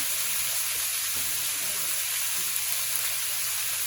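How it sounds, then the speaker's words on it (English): Outside skirt steak sears in a hot skillet, giving a steady, close, hissing sizzle throughout. "We're going to add that in there, and it's nice and skillet's nice and hot."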